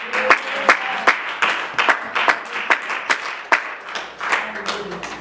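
A congregation at a prayer retreat claps together in a steady, rhythmic beat, the sound full and moderately loud, with voices mixed in.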